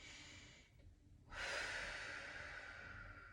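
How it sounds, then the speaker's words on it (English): A soft breath, then a long, steady airy exhale close to the microphone, quiet and unhurried, during a postpartum abdominal and pelvic floor exercise. "As I breathe out, I'm bringing my abdomen in and my pelvic floor up"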